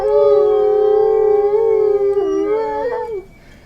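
A short excerpt of wolves howling: one long, steady, loud howl that holds its pitch, then bends downward and breaks off near the end, with no voices.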